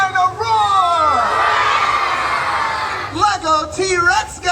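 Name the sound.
crowd of children imitating a dinosaur roar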